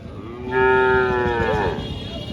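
A dairy cow at a busy cattle market in Jhenaidah gives one long, loud, close moo that rises and then trails off, heard over a steady murmur of market background noise.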